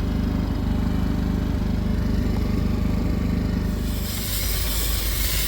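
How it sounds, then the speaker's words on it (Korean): High-pressure washer spraying through a metal nozzle while cleaning the evaporator of a Kia Sorento MQ4: a steady, loud droning hiss of motor and spray that brightens into a harsher rush near the end. "이제 금속 노즐로 이렇게 가까운 데는 고압으로 쏴가지고 구멍 속을 깨끗하게 씻는 거예요."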